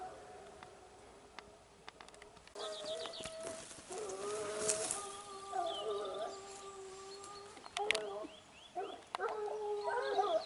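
Gascon Saintongeois hounds bark and bay in a pack down below, their voices echoing faintly at a distance, intermittent across the stretch with murmured talk nearby.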